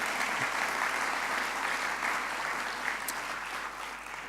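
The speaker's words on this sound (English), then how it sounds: "give me a clap" Steady applause from an audience at a science-communication competition final, a dense wash of clapping that holds for several seconds and fades slightly at the end.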